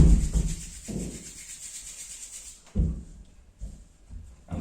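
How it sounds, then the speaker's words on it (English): Palms rubbed briskly together during a relaxing yoga session, a soft close scratchy swishing in repeated strokes with short pauses between, heard alone in a quiet room. "Rub both the palms."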